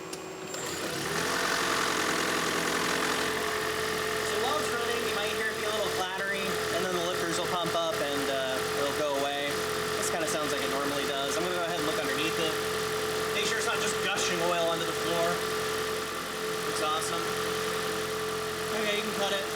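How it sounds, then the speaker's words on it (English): A Toyota Prius V engine idles steadily and loudly after starting up following an oil and filter change, its constant mechanical hum running throughout while a person talks over it. "start the car and let it run for like 40 seconds"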